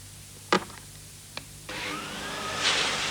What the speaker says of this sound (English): This is the new technologically advanced Hoover Aquamaster.